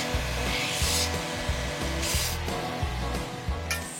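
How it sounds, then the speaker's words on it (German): A small bushing for a Sachs Prior motorcycle frame is sanded with a steady, close, rough grinding drone, pulsing rhythmically under a continuous hiss. "das muss ich jetzt schnell ein bisschen schleifen"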